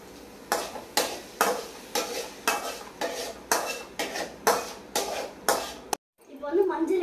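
Eggs being beaten with turmeric in a cooking pan, a close rhythmic series of about ten scraping strokes of utensil against metal, evenly spaced, then a brief pause and softer clatter.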